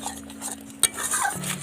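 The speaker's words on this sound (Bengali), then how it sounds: "এইভাবে ভালো করে নাড়তে থাকবেন" Kheer filling with cashews, raisins and cardamom stirred in a pan for patisapta, a few close scraping spoon strokes with one sharp clink against the pan.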